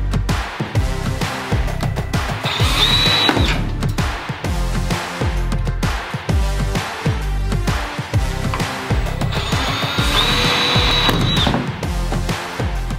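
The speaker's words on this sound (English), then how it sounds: "You're gonna have to drill some pilot holes first, because these screws are not self-tapping and this metal is a lot thicker." A power drill boring pilot holes into thick metal during an Airstream trailer renovation, loud and continuous, with repeated surges and brief pauses between holes and a high whine as the bit cuts in.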